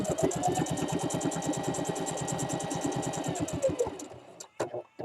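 A sewing machine stitching fabric for an Easter basket runs in a fast, even run of needle strokes for about four seconds, then stops, leaving a few brief knocks and handling noises.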